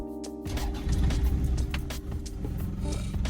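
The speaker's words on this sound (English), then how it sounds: "Well, the car starts up, so we good." A 1996 Toyota RAV4 four-cylinder engine cranks briefly and catches, then settles into a loud, close, uneven idle rumble with slight revving.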